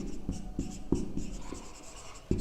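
Pen strokes scratch and tap on paper while a math solution is written out. The marks come in short, uneven bursts, close and fairly quiet, with no talk.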